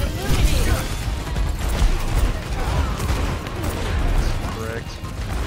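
Rapid video game gunfire rattles through a firefight, dense sustained bursts with booming low impacts and mechanical clatter, loud and continuous from start to finish.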